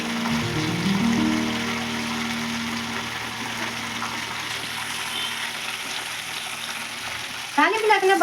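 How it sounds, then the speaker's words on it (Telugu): Mustard seeds, cumin and fenugreek sizzle in hot oil in a pan as a tempering, a steady close crackle under an early humming tone, with a louder burst of spluttering near the end. "తాలింపు పెడుతున్నాను నేను"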